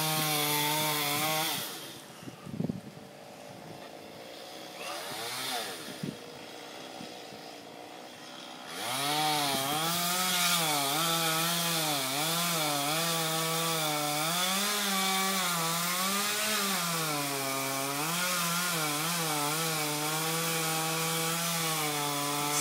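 A chainsaw cuts through maple tree wood outdoors, idling and revving in short bursts before bogging into a long, loud, wavering buzz as the chain works through the log.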